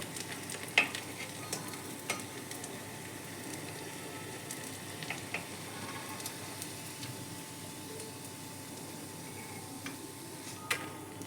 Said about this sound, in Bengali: এইভাবে সমস্ত বড়াগুলো এক এক করে ভেজে নেব।